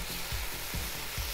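Chicken seasoned with soy sauce sizzles in a frying pan, a close steady hiss broken by rhythmic scraping strokes as it is stirred.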